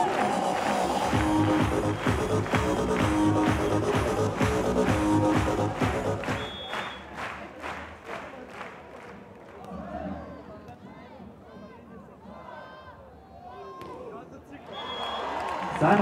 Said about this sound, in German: Wir klatschen mit für Brasilien und für Lettland!